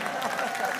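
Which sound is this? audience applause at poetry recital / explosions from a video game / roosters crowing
audience applause at poetry recital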